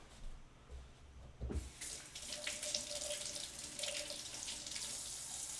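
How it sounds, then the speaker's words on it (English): A kitchen tap runs steadily while a carrot is rinsed under it, a close, soft splashing stream that starts after a brief clunk and continues evenly to the end, with no talking. "So you want to come home and wash it off, like this carrot, for example."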